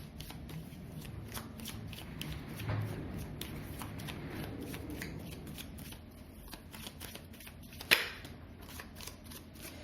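Tarot cards are shuffled and drawn by hand, a soft continuous riffle and slide close by and quiet, ending in a sharp snap of a card near the end.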